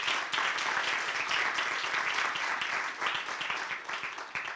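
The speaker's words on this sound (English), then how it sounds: "Can we give them a round of applause?" An awards-event audience breaks into dense, steady applause that holds throughout and eases slightly at the end.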